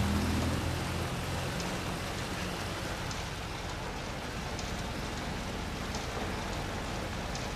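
Steady rain falls continuously, a dense even hiss with faint patter of drops, fairly close and unbroken throughout, with no voices over it.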